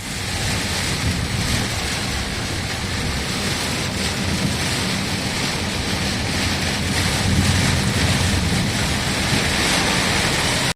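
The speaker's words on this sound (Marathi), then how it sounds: "दुपारच्या सुमारास अचानक काळे ढग दाटून आले आणि विजांच्या कडकडासह मुसळधार पावसाने" A sudden heavy downpour lashes Amravati, a dense, steady roar of rain with gusty wind noise and no clear thunderclap.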